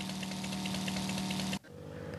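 Yamaha XJ6 motorcycle engine in a Brazilian motorcycle video game, a loud steady rumbling drone that cuts off abruptly after about a second and a half, leaving a quieter low idle.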